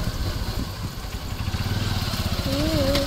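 A motorcycle engine putters close by at a steady idle-like rhythm, with a faint whine rising near the end.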